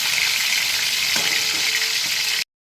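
Pointed gourd (potol) pieces frying in hot oil, a steady broadband sizzle that stays close and even with no voices over it, cut off abruptly near the end.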